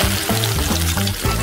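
Potato smiley shapes sizzle loudly as they drop into boiling oil, a dense close frying crackle with brief bursts as pieces go in, no voices.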